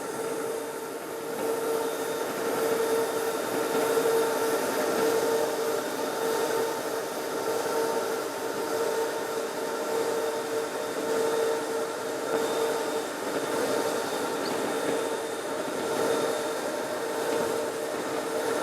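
An Xtrem Baby Mammoth floor grinder runs continuously as it is swung slowly left and right across a floor, a steady loud motor whine and grinding roar with a constant tonal hum and no breaks.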